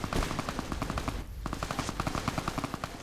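Rapid automatic gunfire in Fallout New Vegas comes in sharp, evenly spaced bursts, with a brief pause near the middle. The shots are loud and close, with no talk.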